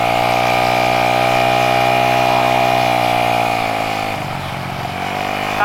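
A bored-up Honda Scoopy scooter engine revs hard and steady at high RPM, a loud buzzing whine that holds for several seconds, then dips briefly and climbs again, with no talk over it.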